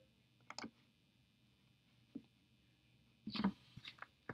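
Sparse computer mouse clicks during CAD drafting: a quick pair, a lone click, then a short cluster of sharp taps near the end over a quiet background hum.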